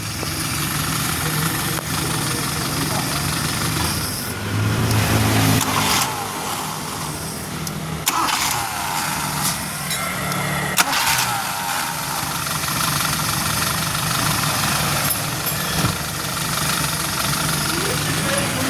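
The engine of a Suzuki Forsa car, still cold, cranks briefly and catches, then settles into a steady idle with a slight knock, while someone talks over it.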